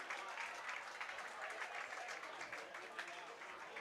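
Crowd cheering and clapping at a baseball game between the Healdsburg Prune Packers and West Coast Kings, a steady broad wash of applause from the stands that carries through the whole stretch with crowd noise mixed in.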